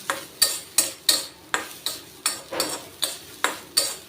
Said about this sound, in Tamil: இது நல்லாவே ட்ரையாக வறுத்துக்கணும் இந்த ஈரப்பசை போகிற அளவுக்கு